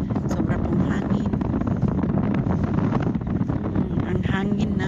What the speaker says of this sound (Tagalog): Ang hangin na may dalang buhangin.